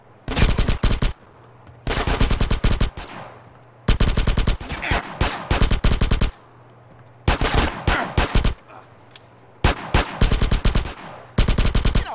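Rapid automatic gunfire in GTA San Andreas, coming in loud, close bursts about a second long with short quiet gaps between them, repeated roughly eight times.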